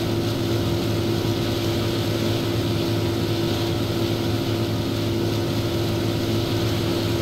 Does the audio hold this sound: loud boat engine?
yes